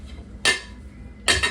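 A cooking pot set down twice on a stove before boiling salt mackerel, two sharp metallic clanks with a faint hum between them.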